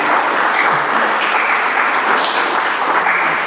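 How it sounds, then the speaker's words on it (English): A festival audience applauds an author at a book event, a steady dense wash of clapping that holds evenly throughout without pause. "Can we give her a massive round of applause"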